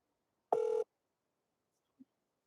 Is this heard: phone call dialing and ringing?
yes